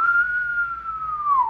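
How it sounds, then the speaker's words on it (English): A person whistles a single sustained, steady note that wavers slightly and dips in pitch at the end, close and clear with nothing else audible. "did I forget how to whistle?"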